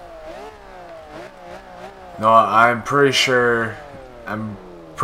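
A 2002 Ferrari Enzo in Forza Horizon 2 runs with its engine note rising and falling beneath someone talking, then swells into a louder rev burst midway before easing back under his voice.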